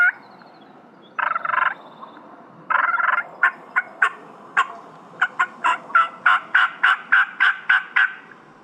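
A wild turkey gobbler gobbles a few times during a spring turkey hunt, then a fast series of clucking yelps follows in a steady rhythm, fairly close with no voices.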